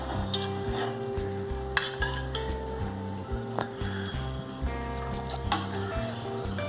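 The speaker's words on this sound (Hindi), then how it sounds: "हमने जो कुकर में दाल के साथ सब्जियां उबाली थी, अब हम उसको तड़के में डालेंगे।" Boiled lentils and vegetables hit hot tempering for sambhar, a soft, continuous sizzle with sloshing liquid and occasional stirring clinks, heard fairly close over a low steady background hum.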